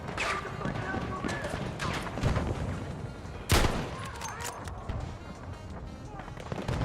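Gunfire in Battlefield 6: scattered shots and short bursts, near and distant, with one sharp loud crack in the middle of busy battle ambience and voices in the mix.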